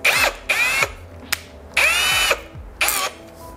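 A power drill fitted with a bit runs on a Yamaha FZ1 motorcycle during a jet kit install, in four short bursts of whirring and one brief blip, each spinning up and winding down, loud and close with no talk.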